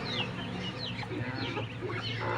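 Several chickens, hens with chicks, cluck continuously nearby, overlapping chirps and clucks over a steady low background hum.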